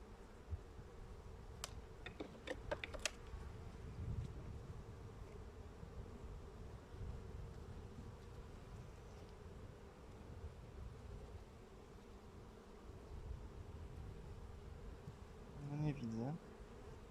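Steady, low droning hum of many honeybees buzzing together in an open hive, with a few faint clicks and taps near the start.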